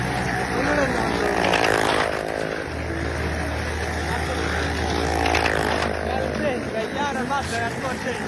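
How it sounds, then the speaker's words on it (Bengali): A motorcycle engine drones and revs steadily during a circus bike stunt at a village fair in Bauphal, under the hubbub of a crowd and amplified voices. "কিভাবে বাইকটা চালাইতেছে"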